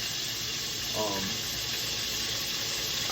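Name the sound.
chicken frying in hot oil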